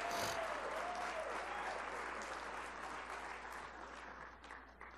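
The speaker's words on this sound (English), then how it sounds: "let's give a round of applause" Steady applause fills a hall at an evening event honouring the hosting staff, broad and even at first and then slowly tapering off.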